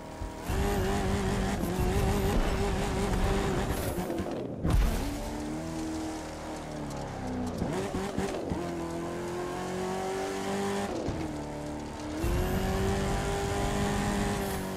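Monster truck engines roar and rev continuously in a Monster Jam video game freestyle event, with rising and falling engine pitch, tire squeals and brief drops, loud and dense with no talking.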